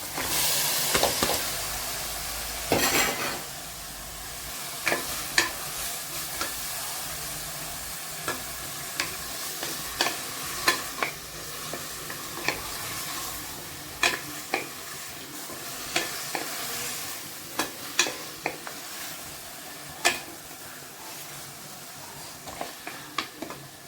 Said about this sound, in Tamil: தக்காளி வதங்கிடுச்சு. இந்த இப்போ கழுவி வச்சுருக்க எலும்பு அதில் போடுறேன்.